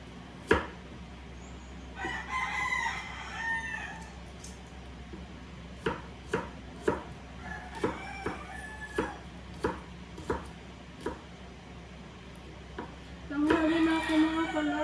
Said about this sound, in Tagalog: Ayan, madaming manok.